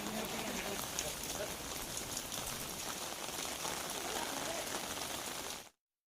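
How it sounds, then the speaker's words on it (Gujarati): Heavy downpour in Valsad, Gujarat: a dense, steady roar of rain hissing continuously across the whole stretch before cutting off abruptly. "વલસાડમાં ધોધમાર વરસાદ છે"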